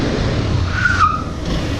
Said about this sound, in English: We'll see the rear brake, how it performs